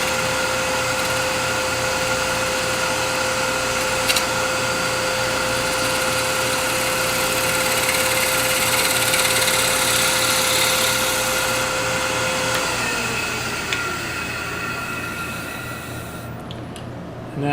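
A wood lathe spins steadily while a tool takes a turning cut on a wooden ring box, giving a continuous motor hum with a broad scraping hiss that slowly winds down near the end.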